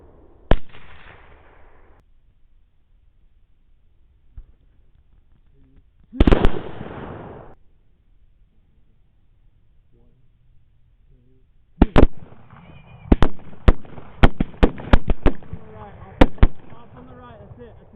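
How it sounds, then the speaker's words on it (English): Rifle shots fired at hogs on a night thermal hunt, several sharp cracks: one, then another a few seconds later, then a rapid volley of about eight near the end, with low murmured talk between. "Shoot him again"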